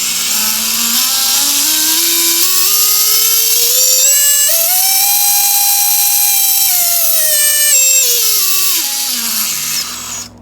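A drone motor on a Karearea Toa frame spins at quarter throttle with heavy vibration, a loud whining buzz that climbs in pitch, holds high, then winds back down before cutting off.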